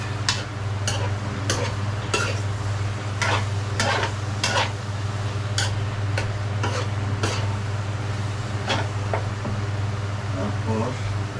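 Food stirred in a frying pan with bay leaf, scraped in a steady series of sharp utensil strokes over a constant sizzling bed, close and fairly loud, no talk.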